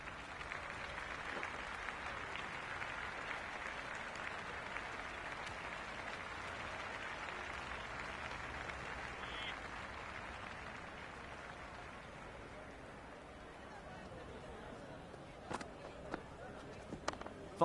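Crowd applause at a Super 6 T20 match between Gujranwala Rustams and Peshawar Zalmi in the game Cricket 26, a continuous hiss of clapping from a large stadium crowd that eases slightly, with a few sharp knocks near the end.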